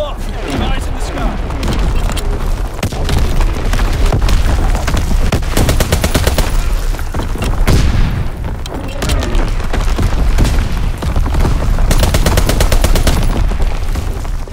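Artillery barrage and gunfire in Call of Duty: WWII on the Shipment 1944 domination map: heavy booms and rattling machine-gun bursts layered into a loud, sustained battle din, with announcer voices speaking over it.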